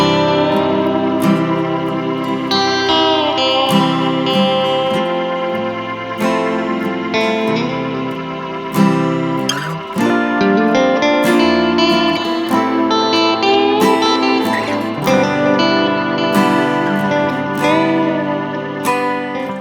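A 1960s Fender Mustang electric guitar played through an amp with light reverb rings out in plucked notes and chords, bright and close, continuous with no talk.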